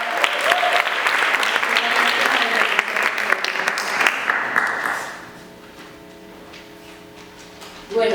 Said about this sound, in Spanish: Les pido un aplauso para Isabela.